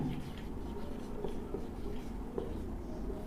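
Chalk or marker writing on a classroom board during a maths lesson, a faint steady scratching with a few small taps, heard alone at low level.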